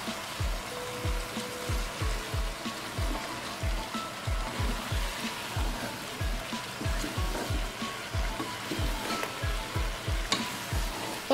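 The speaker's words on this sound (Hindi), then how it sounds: "अब मैं इसको हल्का सा मिक्स करूंगी ताकि सारी सब्ज़ी को स्पाइसेस लग जाए" Aloo gobi of cauliflower and potato being gently mixed with spices in a hot pan, a continuous sizzle broken by regular, rhythmic scraping strokes of the spoon, close and steady.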